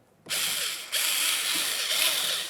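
A ratchet snugging mirror mounting screws on a 1999-2003 Toyota Solara, fast close clicking in two bursts after a short silence, alone with no talking.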